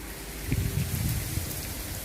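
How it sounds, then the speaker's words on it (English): Icy rain mixed with hail falls steadily outdoors in a garden, a dense continuous patter with a few sharper hits and no voices. "Look at this icy rain. It's a hailstone."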